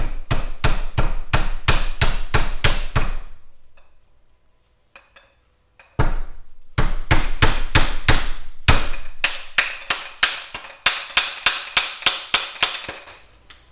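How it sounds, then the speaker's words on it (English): A rubber mallet hammers a part onto a Z31 turbo axle in rapid, evenly spaced strikes, loud and close, breaking for a short pause with a few light taps before the steady pounding resumes and carries on. "now I'll just persuade it the rest of the way with a rubber mallet"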